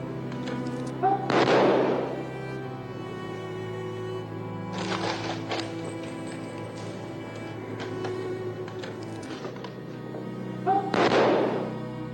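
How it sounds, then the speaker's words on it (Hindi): Two deep booming blasts of a 21-gun artillery salute at a state funeral, about ten seconds apart, each rolling out over a low steady hum, with faint background noise between them. "तो 21 तोपों की सलामी दी गई।"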